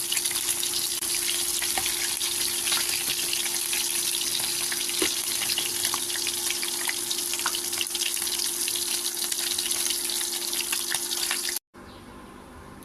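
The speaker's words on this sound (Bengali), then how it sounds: "মাছগুলো বাজা হয়ে গেছে এখন আমি এগুলোকে আস্তে আস্তে উঠিয়ে নিই" Steady, close sizzle of fish frying in hot oil in a home kitchen as the pieces are lifted out, a constant hiss that cuts off abruptly near the end.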